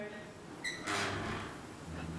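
A door thudding shut inside Woodchester Mansion, a single fairly faint knock heard in a quiet, hollow room.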